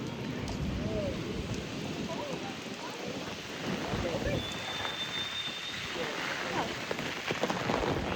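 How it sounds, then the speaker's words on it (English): Rain from a summer thunderstorm pours steadily, a dense patter on surfaces with gusting wind, recorded close and continuous without a break. "then I got stuck in a little thunderstorm"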